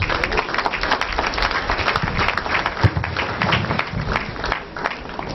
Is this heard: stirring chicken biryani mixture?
no